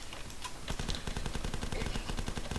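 Rapid machine-gun fire in the video game The Last Stand, a fast, evenly spaced stream of sharp shots starting after a brief pause and running steadily to the end, fairly close and loud with no talking.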